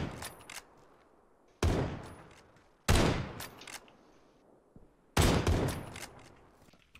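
Gunfire in the PUBG battle royale game: four loud, sharp shots spaced a second or two apart, each with a ringing echoing tail that decays before the next, close to the player.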